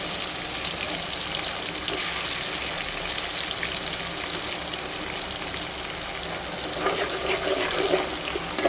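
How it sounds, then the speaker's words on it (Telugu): Chopped onions frying with a bay leaf in a pan for village-style tomato rice give a steady, close sizzle and hiss that holds for the whole stretch and swells slightly near the end, with no talking. "ఆనియన్స్ బాగా ఫ్రై చేయాలి."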